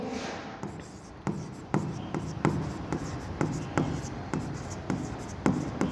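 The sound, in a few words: writing out a journal entry narration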